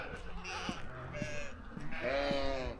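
Goats or sheep on a farm give several wavering bleats, one after another at moderate distance, fairly quiet against a soft outdoor background.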